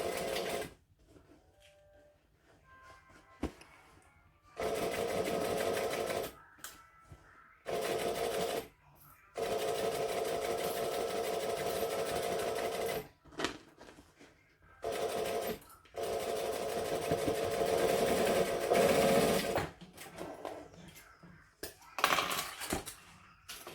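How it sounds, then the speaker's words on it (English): A domestic sewing machine stitches an all-vinyl bag in several bursts of steady, fast whirring motor noise lasting a few seconds each, with quiet gaps between them. Faint clicks and handling sounds fill those pauses. "I'm going to stitch it on my other machine."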